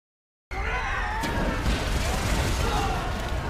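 Heavy booming cannon fire from a warship toward the shore, with a sharp blast, followed by sustained rumbling explosions and crashing, loud and dense throughout.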